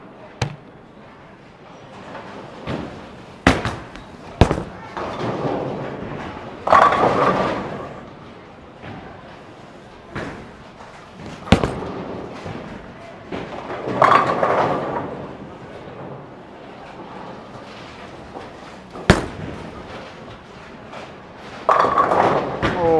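A Hammer Obsession Tour Pearl bowling ball is thrown three times down a lane, with sharp thuds at release and long rolling rumbles building to pin crashes, echoing in a busy alley with faint chatter.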